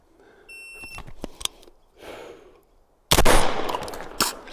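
Slug rounds fired from a Genesis Arms Gen-12 SBS shotgun: a pair of sharp blasts, one in the middle and a louder one near the end, with softer clicks and handling noise before them and no talk.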